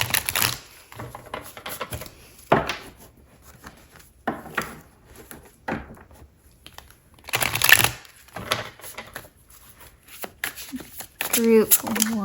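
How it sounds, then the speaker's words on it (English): Tarot cards are shuffled close up in repeated bursts of riffling and soft slapping, with pauses between them, while a person talks quietly in between. "we'll give the cards another shuffle"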